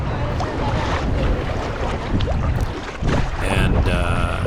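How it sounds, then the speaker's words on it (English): A sea kayak rides ocean waves at the outer edge of a Swedish archipelago on an expedition, with steady loud wash of water and heavy wind buffeting throughout, hull slaps and splashes rising in bursts. "now is the time where we finally got to bounce a little bit more on the waves"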